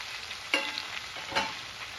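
Moringa drumstick pieces frying in a pan for a fish curry, a steady close hiss of sizzling oil with two brief louder bursts as the pieces are stirred.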